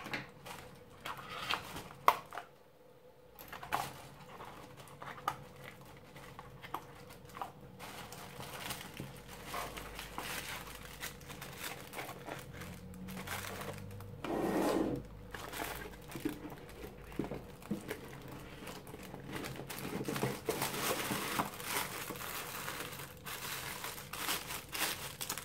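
Scissors snip and crunch through plastic Living Dead Dolls "Toxic Molly" packaging, with crinkling, crushing plastic noises scattered irregularly across a steady background hiss, moderately close and without talk.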